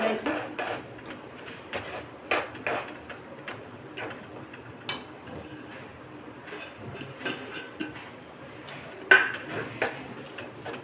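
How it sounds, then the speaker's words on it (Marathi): Peanut powder is stirred into hot sugar syrup in a pan on the stove, with a soft background hum and irregular scraping clinks of a spoon against the pan. "आता आपल्याला याच्यामध्ये दाण्याचं कूट टाकून घ्यायचं मिक्स"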